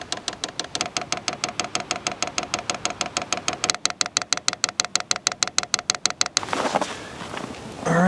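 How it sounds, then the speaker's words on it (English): A van's diesel heater fuel pump ticks in a fast, even rhythm of sharp clicks, continuing steadily before giving way to a rushing hiss near the end, with no talk. "So I'm gonna let that fuel pump do its thing. It's pumping fuel."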